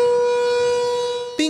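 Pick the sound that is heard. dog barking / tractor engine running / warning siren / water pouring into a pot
warning siren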